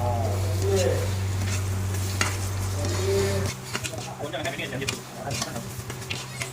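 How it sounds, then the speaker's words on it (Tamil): Crushed garlic frying for mutton curry, sizzling loudly and stirred with clinks of a utensil against the pan. A steady hum drops out halfway, and voices talk faintly underneath. "வெள்ளைப்பூடு வந்து இடிச்சு வச்சது போட்டு நல்லா வேக விடுவோமா"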